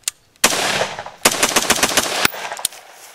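An AR-15 rifle with a Geissele SD-E trigger fires rapid strings of loud, sharp shots at an outdoor range: a single report, a quick run of shots, a tight burst of several more, then a few scattered final shots.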